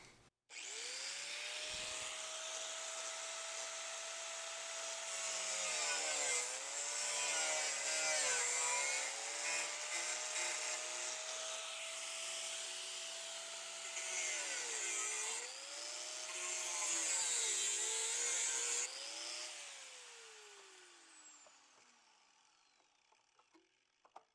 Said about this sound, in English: I'm going to trim this off, and then I'm actually going to cut this little bracket off the bottom here too